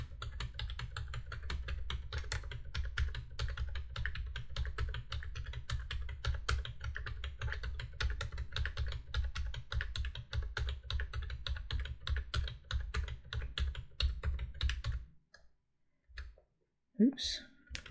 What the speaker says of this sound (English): So I'm just going to type 1, tab, 2, tab, 3, tab, and just go through really quickly here.